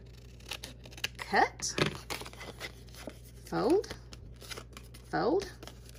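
Scissors snipping paper for an accordion album, sparse crisp cuts and rustling folds close by, with a voice speaking briefly between the cuts.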